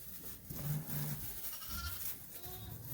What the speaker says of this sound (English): But look at these Suffolk lambs here.